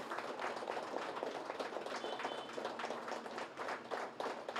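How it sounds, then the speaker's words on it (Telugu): An audience at a Pyramid Party meeting in Kanigiri claps in a dense, sustained, fairly even wave that fills the room without any voices. "పిరమిడ్ పార్టీ ప్రతినిధులు గట్టిగా చప్పట్లు కొడదాం."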